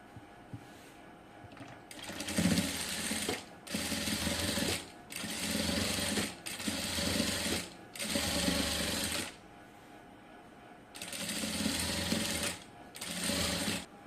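A sewing machine stitches cutwork lace onto fabric in repeated bursts of rapid mechanical whirring, each lasting one to two seconds and separated by short pauses, close and clear.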